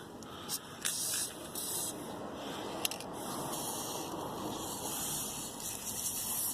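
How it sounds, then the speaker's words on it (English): A steady aerosol spray of WD-40 lubricant hisses continuously from a can onto 2001 Toyota Corolla struts for several seconds, with a few brief pauses and small clicks, close up with no talking. "So I got my WD-40 out here somewhere. There it is. So we're lubricating them up."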